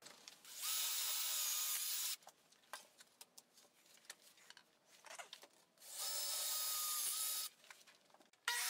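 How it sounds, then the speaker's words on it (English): Power drill boring all the way through a wood piece from an old crib, two sustained high whirring runs separated by a quiet stretch of small knocks and ticks. "I'm going to drill all the way through here and use a dowel to connect these."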